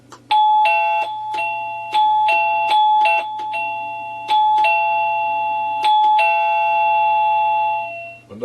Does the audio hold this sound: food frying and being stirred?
no